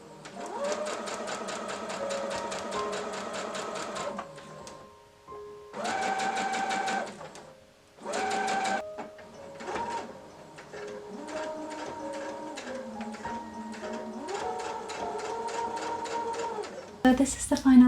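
A sewing machine stitching a fabric scrap headband with ribbon runs in several whirring bursts separated by short pauses, its motor giving a steady tonal hum and rapid needle rhythm.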